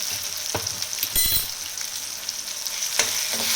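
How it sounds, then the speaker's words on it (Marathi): Paste of coconut, coriander, garlic and ginger sizzles steadily in hot oil, close and fairly loud, with brief scraping stirs and clatters of a spoon against the pan breaking up the crackle. "चांगली परतून घ्यायची तेलामध्ये सगळं."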